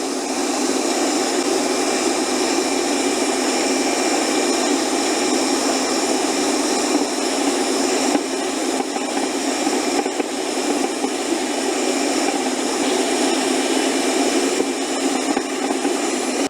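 A Westermann sweeper powered by an EGO battery runs with a steady, loud electric motor whine and brush roar, constant throughout as it works through thick material.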